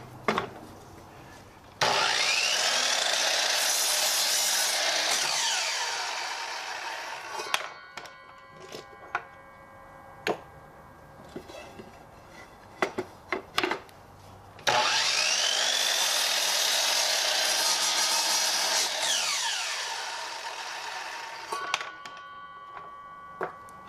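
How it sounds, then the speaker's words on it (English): A miter saw with a stop block cuts wood pieces to length, two loud, sustained whining cuts of several seconds each with the motor spinning up and winding down, separated by quieter clatter and handling noises, no talking. "I set up a stop block on my miter saw to make duplicate cuts on these easier"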